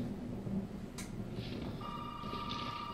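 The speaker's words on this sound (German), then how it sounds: "Natürlich, jetzt klingelt das Telefon." A telephone rings in the Resident Evil 7 video game, played in VR: a steady electronic ring tone starts partway through and holds over a dark, rumbling ambient background, with no talking.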